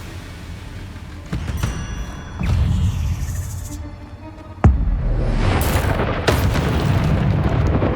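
A Confringo fire spell explodes in the video game Hogwarts Legacy: rumbling booms over game ambience, ending in a sharp, loud blast followed by a sustained roar.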